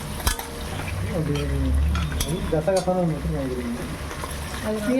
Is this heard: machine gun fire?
no